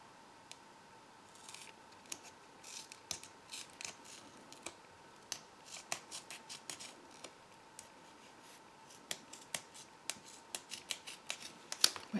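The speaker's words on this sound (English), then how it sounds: "I'm going to bring out a piece and cut it" Scissors snip through paper for a handmade shaker card, a quiet, close series of crisp cuts coming in irregular bursts, picking up pace toward the end in an otherwise still room.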